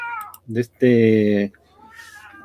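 A cat meows loudly and close by, one long drawn-out cry with a few shorter mews before it, while people talk in the background.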